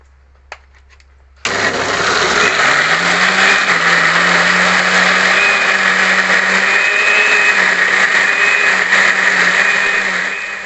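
A blender switches on abruptly and runs loud and steady, its motor whirring with a grinding, churning tone as it blends spices and shallots, until it winds down at the end.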